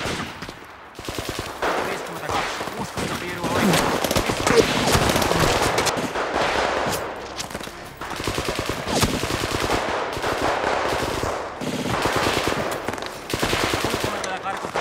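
Rapid bursts of Soviet-Finnish war machine gun fire rattle in long, loud volleys, pausing briefly between strings of shots, with a faint voice underneath.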